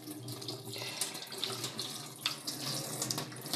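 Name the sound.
washing leaves under running tap water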